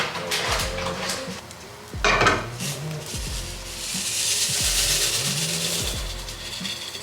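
Pasta shells being stirred and coated with butter in a pan on a stovetop, metal utensil scraping and clinking against the pan in repeated strokes, with a sizzling hiss building in the background.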